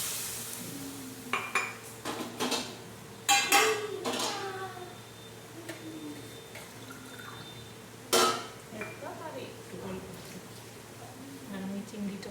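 Prawns being stirred in a metal cooking pot: scattered clinks and scrapes of a utensil against the pot with soft liquid sounds, some sharp knocks, heard under a person talking.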